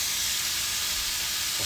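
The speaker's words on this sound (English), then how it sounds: "we have our lobster and our shrimp sauteing" Lobster and shrimp sauté in a pan with a steady, loud, unbroken sizzle and hiss that stays even from start to finish.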